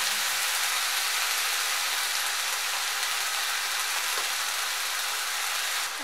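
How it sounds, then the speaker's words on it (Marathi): Fenugreek leaves frying in a pan, a steady bright sizzle and hiss held evenly throughout, faint and continuous with no speech. "आणि भाजी टाकून घेऊया। या भाजीची हलवून घेऊया।"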